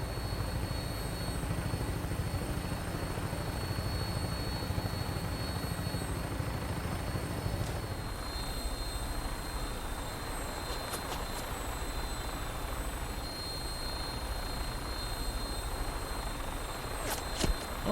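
A Vertibird aircraft in Fallout 4 takes off, with a loud, steady rotor and engine roar that shifts in pitch partway through. Faint game sounds sit on top.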